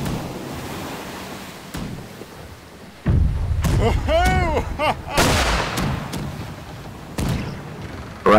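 Ship cannons fire in a Blackwake naval battle: several loud, booming blasts come in quick succession, some with whistling projectiles, over a bed of ocean waves and wind.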